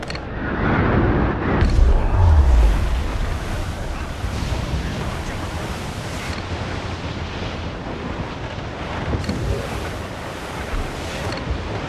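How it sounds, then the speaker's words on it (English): Strong wind roars over crashing ocean waves and surf in a sea storm in Assassin's Creed 4 Black Flag, a steady loud wash with heavy low rumbles early on and gusts swelling and easing throughout. "The wind is picking up nasty"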